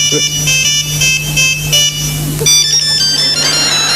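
A telephone rings during a Greek stage comedy performance, a loud repeating electronic ring held over a steady hum and theatre noise.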